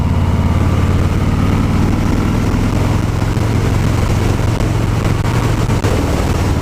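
A 2018 Harley-Davidson Fat Boy 107 with its Milwaukee-Eight engine rumbles on the move, a deep steady drone with wind rush, loud and close throughout without any talking.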